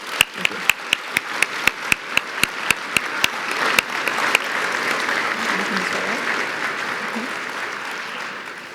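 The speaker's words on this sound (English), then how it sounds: "One more round of applause for these guys." Awards ceremony audience applauding, opening with a run of sharp, evenly spaced individual claps that swell into a sustained crowd applause, gradually fading near the end, with faint voices underneath.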